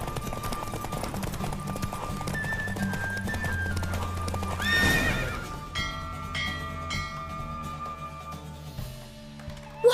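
In The Witcher 3, a horse races flat out, with rapid hoofbeats and snorting over a backdrop of game music, a bright whinny rising midway; no talk, loud and close throughout.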